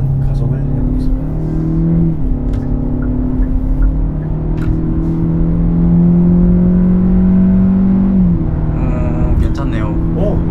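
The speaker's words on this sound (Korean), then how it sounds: "네, 한번 가속을 해보겠습니다." A Hyundai Avante 1.6 accelerating in sport mode produces a loud, steady engine and exhaust drone whose pitch climbs through several gear changes under road rumble, with people talking inside the car.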